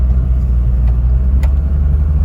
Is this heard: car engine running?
yes